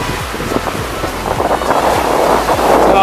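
Storm-driven waves wash onto a littered black-sand shore at Manila Bay, a loud churning surge rising and falling under gusting wind buffeting the microphone, close and continuous.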